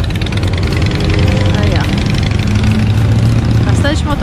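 A large crowd of motorcycles idles at a gas station in Marão, a dense steady engine rumble with revs rising and falling while someone speaks briefly over it.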